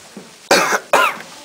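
Two sharp, harsh coughs close by, one after another, after a brief quiet moment.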